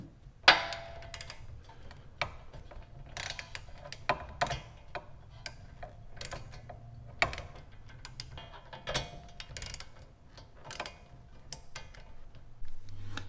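Bolts on a Honda Civic Type R brake assembly being tightened by hand, irregular ratcheting clicks and metallic ticks scattered across the stretch at close range, with no talking.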